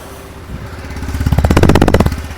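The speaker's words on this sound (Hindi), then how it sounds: "सेल्फ स्टार्ट आइडल स्टार्टर भाई इसकी इंजन नॉइज सुन सको आप" A Bajaj CT 110X motorcycle self-starts with a brief starter whir, then its engine catches and settles into a steady, close, rhythmic idle thump with a rising burst of firing pulses.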